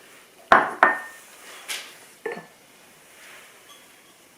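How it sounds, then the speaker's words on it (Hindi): Gulab jamun dough with oil being mixed in a bowl, with a few sharp knocks and clinks from a utensil against the dish, spaced apart and fairly close, followed by softer scraping. "इसको बहुत अच्छे से तेल के साथ मिक्स करना है।"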